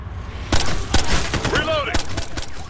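Gunfire in the video game Ghost Recon Future Soldier, a run of sharp shots and bursts with crashing impacts, loud and close, mixed with game noise and a voice cutting in.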